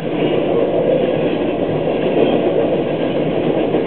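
A long freight train rumbles past close by, a loud continuous roar with rolling wheel noise and no breaks.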